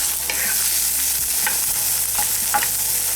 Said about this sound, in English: These are made out of bamboo, and I love these for stir frying,